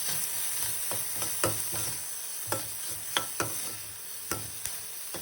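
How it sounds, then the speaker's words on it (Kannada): Chopped onion frying with a little salt in a pan, a steady close sizzle broken by scattered scraping stirs of a spoon, with no voices. "ಸೊ 1 ಚಾಪ್ಡ್ ಆನಿಯನ್ಗೆ ಸ್ವಲ್ಪ ಸಾಲ್ಟ್ ಹಾಕ್ಕೊಂಡು ಫ್ರೈ ಮಾಡ್ಕೋಬೇಕು."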